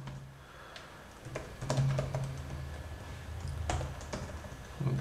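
Code typed on a computer keyboard in a terminal, giving scattered clicks and a few sharper keystrokes at close range over a low steady electrical hum, with no talking.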